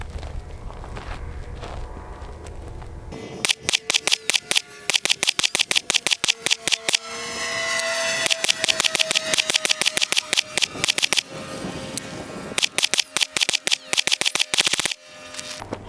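Pistol fitted with a mounted weapon light firing through several magazines at a range, sharp loud cracks in rapid strings with short pauses between bursts and magazine changes.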